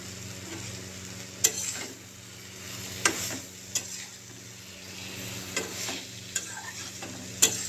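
A spoon stirs brinjal and prawn curry frying in a pan on high flame, steady sizzle underneath with a few sharp scraping knocks spaced a second or two apart, no talk.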